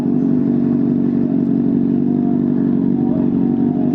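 A freshly dyno-tuned Honda CBR 600RR sport bike drones steadily while being ridden, a loud, constant engine note with road and wind noise and no talking.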